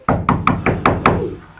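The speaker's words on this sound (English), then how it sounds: "he got to the stick house and he knocked on the door." Six evenly spaced knocks on a wooden door, close and loud, told as part of a children's fairy tale about a wolf visiting a house of sticks.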